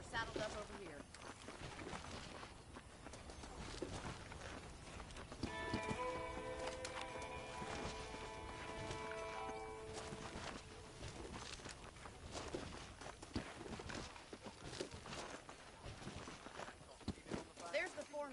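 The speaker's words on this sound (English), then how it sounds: "The horses are saddled up over here." Horse hooves clip-clop in a steady walking rhythm in Red Dead Redemption, moderately close, while people talk over them and a brief whinny and tonal sound rise midway.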